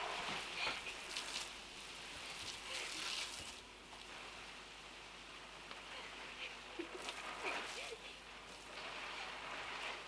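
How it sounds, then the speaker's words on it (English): Artificial rain from a golf rain simulator falls steadily as a continuous hiss of drops over a practice setting, with brief whooshing swishes near and faint speech-like sounds in places. "So I've got my rain simulator, got my umbrella up."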